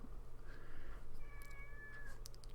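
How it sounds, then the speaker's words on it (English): A house cat gives a drawn-out, wavering moan followed by a second, longer meow, faint over a steady low background hum. "My cat is just moaning like fuck today."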